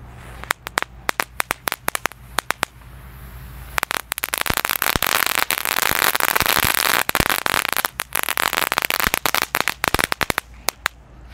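Telur dino firecrackers set off outdoors, dozens of sharp loud pops in rapid irregular bursts, with a dense crackling roar through the middle stretch and scattered bangs before and after.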